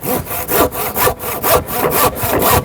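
A hand saw cuts through a wooden roof timber in close, loud, rhythmic back-and-forth strokes, about two per second, with no talk.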